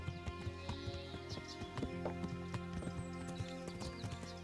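Rhythmic clip-clopping of horse hooves at a steady trot in the video game Kingdom Come: Deliverance, with game background music playing underneath.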